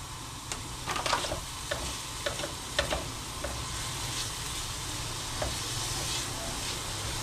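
Ingredients browning in oil in a pan for a carbonara with spinach: a soft, continuous frying hiss broken by light, irregular ticks and taps of a utensil, fairly quiet and close.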